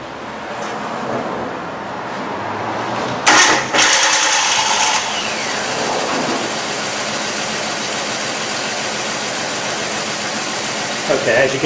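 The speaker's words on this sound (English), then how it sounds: "Okay, as you can see, the engine is rocking and there's a misfire" A car engine with a misfire cranks and catches, then settles into a rough, uneven idle that keeps running steadily and close by; a voice may be faintly present beneath the engine noise.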